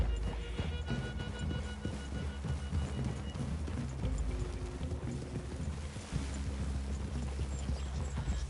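Steady hoof clip-clop of several horses moving along in the video game Red Dead Redemption 2, mixed with wind and ambient noise throughout.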